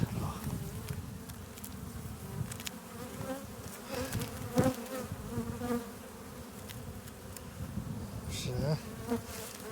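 Honey bees buzz during an October beehive inspection, a dense, close, continuous hum with scattered faint knocks and handling noises around it.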